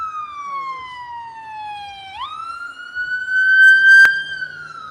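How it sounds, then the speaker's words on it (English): A wailing emergency siren, likely a police car, sweeps steadily downward and then jumps up to a higher held pitch. A sharp click or knock sounds near the end, with faint background chatter underneath. "with these sirens, scientifically speaking"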